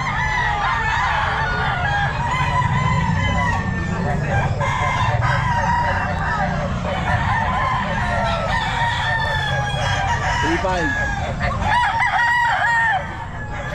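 Several roosters (stags) crow repeatedly at a busy pet market in Bocaue, loud and close over a constant background of clucking fowl and crowd murmur, with sellers talking.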